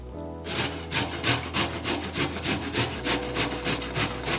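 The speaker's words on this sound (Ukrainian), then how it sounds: "ми беремо терку і просто нашу цибулину тремо на дрібний сік" An onion is rubbed back and forth on the finest side of a grater, giving close, rhythmic rasping strokes at an even, quick pace with no voices.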